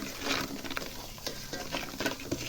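Baking soda fizzing in sour cream: a soft, continuous fizzing crackle with occasional stirring clinks, close and steady, no voices.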